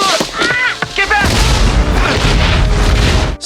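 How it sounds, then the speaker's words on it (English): A bomb spat back by a monster goes off in a loud, close, rumbling boom that rolls on for several seconds. Shouting voices come just before it, and a dense low roar fills the rest. "In the chaos of the explosion, Valentine and his group were blown out of the rocks"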